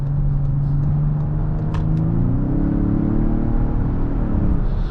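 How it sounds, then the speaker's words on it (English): A 2023 Lincoln Aviator Grand Touring's twin-turbo V6 pulls in Excite mode, a loud, steady low rumble from inside the cabin with the engine note rising partway through. "That twin turbo V6 makes a really nice sound too."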